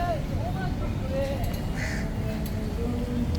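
Crows caw a few times along busy Jonker Street in Melaka, brief calls rising over a constant murmur of traffic and street babble, with someone talking in the foreground.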